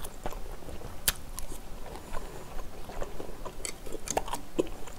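Pork belly and squid bulgogi being chewed up close, with soft wet mouth sounds and a few sharper crunchy bites across a steady, quiet eating rhythm and no talking.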